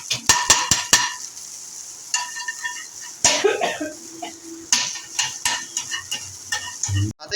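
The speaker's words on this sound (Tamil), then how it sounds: "வேகட்டும் ஃப்ரெண்ட்ஸ். நல்லா வதக்குங்க." Vegetables are sautéed in a pan for a crispy chicken sandwich. A utensil clatters and scrapes against the pan in sharp, irregular strokes over a low sizzle, with a few louder knocks near the start and end, and no voices.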